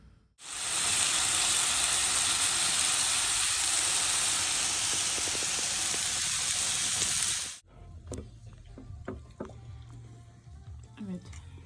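A steady loud hiss of water and milk heating in a pot fills most of the stretch, then cuts off, leaving quieter clinks and small kitchen noises.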